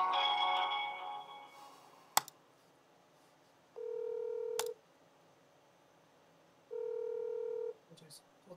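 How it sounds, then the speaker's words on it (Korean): An outgoing phone call rings: two long, evenly spaced ringback tones follow a short burst of talk and a couple of sharp clicks, with quiet pauses between the rings. "내가 소희 전화해볼게"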